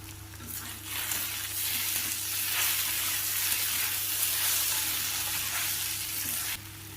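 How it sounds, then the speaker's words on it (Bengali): Taro stolons fry in a pan with a steady, close sizzle that holds evenly throughout, a mild constant hum beneath and no voices. "ভালোভাবে ভেজে নেব।"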